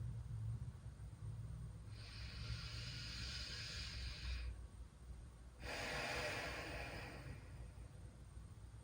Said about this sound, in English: Seal your lips and listen to the sound of your inhale and your exhale.